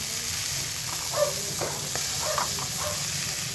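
Steady hissing sizzle of worms frying in oil, with soft muffled voices faintly audible underneath.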